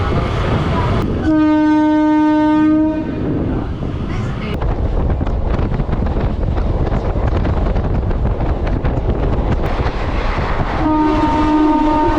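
A train arriving at Thiruninravur station on the Tiruttani–Chennai Central line rumbles nearby as its horn blasts loudly near the start and again at the end, with wind buffeting the microphone throughout.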